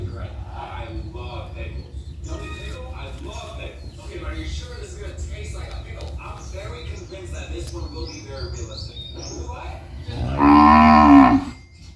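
A cow on a farm gives a single loud, close moo near the end, following a stretch of people talking with light background chirps.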